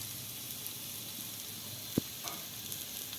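Onion chutney frying on an iron bhakri griddle gives a steady, soft broadband sizzle throughout, with a brief sharp clack near the middle, like a spatula against the iron as the mixture is stirred.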